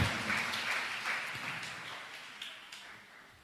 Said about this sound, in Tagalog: Malakas ng palakpak sa ating pinakamamahal na Panginoon.